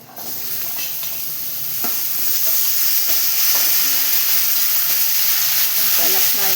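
Pumpkin pieces fry in a hot pan of spices, giving a loud, close, steady sizzle and steamy hiss that builds slightly, with occasional stirring scrapes.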